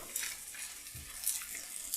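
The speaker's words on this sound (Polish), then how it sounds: "smażymy nasze oreo" Steady sizzling of Oreo cookies frying in a pan, with occasional scraping and stirring sounds close by.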